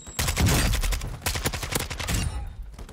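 Kastov 545 rifle fire in a first-person shooter match, with loud rapid bursts of shots overlapping for most of the stretch, some distant gunfire mixed in, and no talking.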